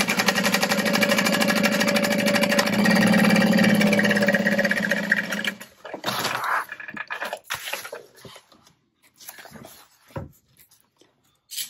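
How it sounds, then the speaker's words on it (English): A sewing machine runs steadily as it stitches along the bottom edge of a backpack lining pocket, a close whirring hum for about five seconds, then stops, followed by soft handling rustles and clicks. "I'm just gonna sew along that bottom edge"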